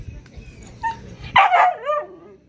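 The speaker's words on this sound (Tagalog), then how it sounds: "Napakaingay na aso." A dog tied near a walkway barks in a short loud burst of several yaps with a whine at the end, close by over low background noise.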